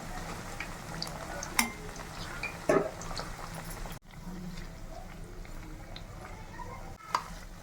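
Onion vadas fry in hot oil with a steady crackling sizzle, broken by a few sharper pops and stirring scrapes in the pan, with no talking.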